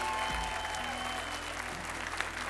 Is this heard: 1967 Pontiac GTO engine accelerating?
no